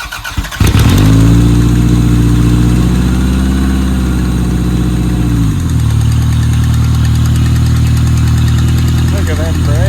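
A demolition derby car engine fires up and runs loud and close, a rough steady roar that drops to a lower idle partway through, with people talking faintly around it.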